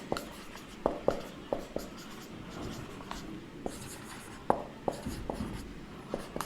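Marker or chalk strokes writing the time on a board, a series of quick irregular taps and scratches under faint room noise, with a voice speaking softly in the background.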